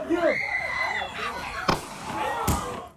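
A single sharp gunshot cracks out, followed by a second bang, over loud shouting and crowd noise from a street brawl near a high school.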